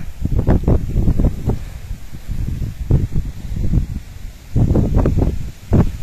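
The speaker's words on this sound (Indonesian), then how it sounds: "Dan anginnya cukup deras, cukup kencang." Strong gusts buffet the microphone on the exposed summit trail of Mount Bismo beside a cliff edge, a loud, rough roar that surges and eases in waves.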